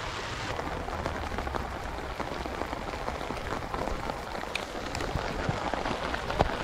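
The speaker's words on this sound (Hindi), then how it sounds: "और आधे घंटे से कंटिन्यू बारिश ही बारिश है, और इतनी तेज़ बारिश है" Steady, dense heavy rainfall pours down throughout at a campsite in Kashmir, a continuous hissing wash with scattered heavier drops pattering close by.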